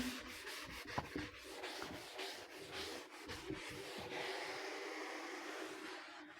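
A board duster or eraser rubs chalk or marker writing off a classroom board in steady back-and-forth scrubbing strokes, close and fairly loud for several seconds with no talk.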